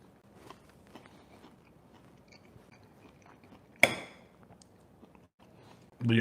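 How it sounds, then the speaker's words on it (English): Someone eats a burnt, crispy Southern-fried pork chop with no condiments: quiet, close chewing and mouth sounds, broken by one sharp, loud crunching bite midway. "I'm just eating this pork chop with 0 condiments."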